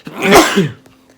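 A single loud, sharp sneeze close up, followed by a brief quiet tail.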